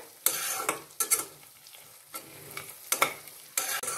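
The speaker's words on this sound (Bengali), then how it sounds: "ভালো করে এবার ভেজে নিতে হবে মশলাগুলোকে।" Spices with salt and cashew paste frying in a pan, stirred in short scraping strokes that come in bursts about every second, over a soft continuous sizzle, close and without talk.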